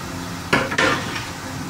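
Chopped tomatoes and green chillies drop into a cooking pot with no water added, making two quick soft thuds with a brief rattle, close and fairly loud, with no talking.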